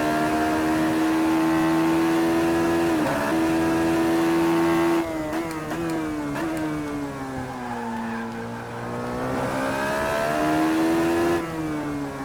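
A Radical SR3 race car engine howls on a racetrack, revving high and holding steady tones, then dropping and climbing through gear changes. It sounds loud and close, as if recorded onboard.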